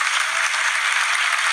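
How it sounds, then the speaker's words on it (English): Steady, dense audience applause from a late-night talk show studio crowd, filling the moment evenly and loudly without pause or voices. "I thought they weren't going to applaud"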